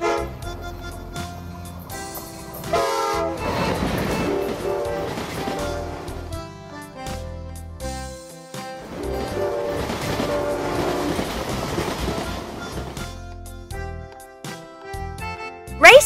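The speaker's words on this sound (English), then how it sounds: "Bullet train." A bullet train rushes by with rhythmic clatter and repeated horn toots, moderately loud and continuous, with the sound swelling and easing in waves and a sharp burst at the very end.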